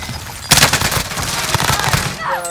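Sustained machine gun fire in a Call of Duty: Warzone match, a loud rapid burst of shots starting abruptly and continuing steadily, close and dominant, fading near the end.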